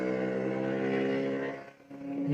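A motorcycle engine revving outside in a residential area, a sustained buzzing drone that holds steady, dips briefly and then swells again, fairly loud and continuous with no talking.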